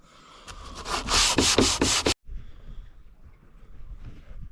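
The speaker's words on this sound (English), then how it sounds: "This one's taking some sanding." Repeated rhythmic rasping strokes of hand sanding on wood aboard a boat, loud and close, stopping abruptly partway, followed by quieter scraping and background noise.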